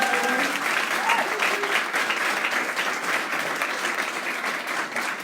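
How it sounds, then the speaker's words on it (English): An audience applauds parents who helped with the food at an education awards evening, in steady, sustained clapping that fills the room, with a few voices mixed in underneath. "Please give them a round of applause"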